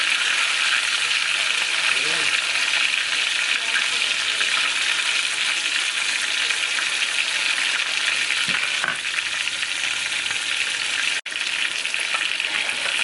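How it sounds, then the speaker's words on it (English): A ribeye steak sizzles steadily in a cast iron pan on a stovetop, a loud continuous frying hiss with a few faint clinks and scrapes, and a brief break near the end. "Our last steak is cooking really well."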